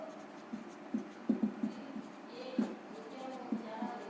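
Chalk or marker taps and scratches on a board during a class 10 maths lesson on quadratic polynomials, soft irregular strokes spread through the clip under faint room hum, with the teacher's voice quietly present.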